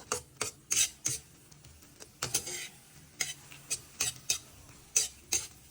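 Scrambled egg cooking in a pan at home, with a utensil scraping and stirring in sharp, irregular strokes, about a dozen clear scrapes over a faint background hum.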